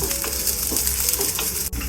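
Two cups of chopped onion fry in hot oil in a cooking pot, giving a loud, continuous close-up sizzle with light stirring clatter and brief crackles, without any talking.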